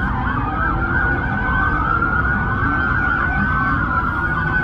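Several police car sirens wail and overlap continuously, rising and falling together with steady traffic rumble underneath, loud and close, in Bayside, Miami.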